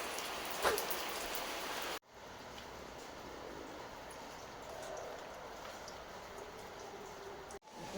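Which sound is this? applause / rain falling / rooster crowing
rain falling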